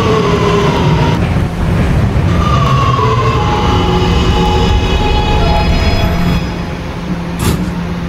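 An R211A R subway train in a Roblox video game runs along the track: a loud, continuous rumble of wheels and motor with tonal whines and a brief squeal near the end.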